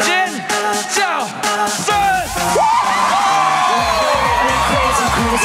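A television variety show audience at a Lunar New Year's Eve special screams and cheers, the crowd's roar rising and swelling under loud singing and music, dense and continuous throughout.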